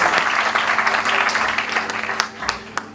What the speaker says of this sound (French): Merci, acclamons pour la lecture de la parole de Dieu.